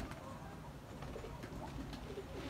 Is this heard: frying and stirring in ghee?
no